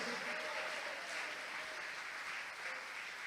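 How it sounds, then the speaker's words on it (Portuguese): A church congregation claps for Jesus during a service, producing a steady wash of applause that stays fairly even and slightly distant throughout, with no speech. "Vamos aplaudir mais ao Senhor Jesus?"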